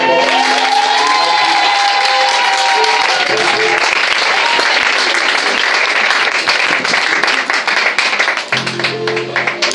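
A church congregation at a prophetic worship gathering in Côte d'Ivoire bursts into loud, sustained applause and cheering that carries on for several seconds, with a voice and instruments faintly underneath.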